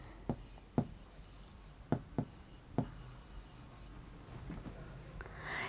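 Chalk taps and scrapes on a classroom board as a teacher writes an answer. Five or six distinct sharp strokes come close together, then a softer rubbing continues, with no voice over it.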